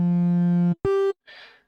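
A basic Serum synth patch through a bandpass filter with distortion and flanger, playing three short notes: a long buzzy tone, a brief higher one, then a softer noisy squelch, loud and close with no talking.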